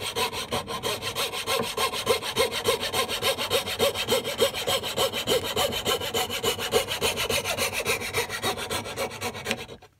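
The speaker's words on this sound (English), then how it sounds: "getting a coping saw and going down those tenon saw marks and then slowly carving our way in and cutting a curve" A coping saw cuts a curve into wood with steady, rhythmic rasping strokes, close and loud, continuing for about ten seconds before stopping abruptly.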